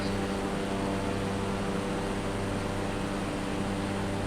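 A small propeller airplane climbing after takeoff near St Barts, its engine droning loud and constant from inside the cabin with a steady, unbroken roar throughout.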